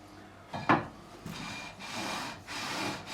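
Fine 400-grit sandpaper rubbed across the frets of an Ibanez Mick Thomson MTM-20 electric guitar during a fret level, giving a steady raspy scrubbing in repeated strokes with short pauses, close and moderately loud, no talking.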